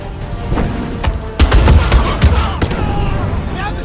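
Gunfire in the action game Batman Arkham Shadow: a rapid burst of sharp, close shots with heavy booming hits, mixed with combat noise and shouting.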